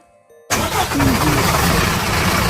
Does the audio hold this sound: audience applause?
no